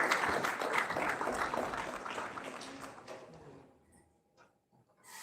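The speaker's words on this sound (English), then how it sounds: "Let's have a round of applause for Megha." An audience at a national oratory contest applauds a contestant, loud dense clapping that gradually thins out and fades to near silence, with a brief burst at the very end.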